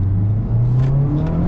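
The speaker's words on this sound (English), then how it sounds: "It revs up so fast when you get on it." Honda Civic Type R engine revving up quickly in R mode, a steady mid-pitched drone climbing gradually in tone over a short stretch, close and loud with no talking.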